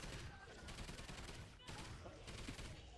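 Portable turret gunfire in the video game Call of Duty Ghosts Extinction, loud and nearly continuous rapid bursts with a brief pause midway before the shooting resumes.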